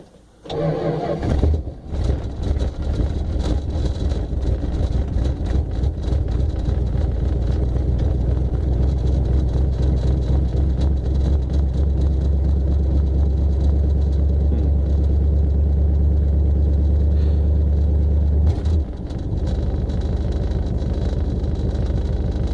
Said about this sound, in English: I reckon this is a cold start 64 New Yorker